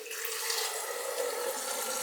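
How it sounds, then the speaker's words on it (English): Water pouring from a fridge door dispenser, a steady close hiss of running liquid lasting about two seconds with no voices. "Fridge door water."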